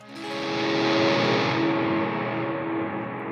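A single distorted electric guitar chord played through a pedalboard rings out loud and sustained, fuzzy and thick, slowly fading over a few seconds.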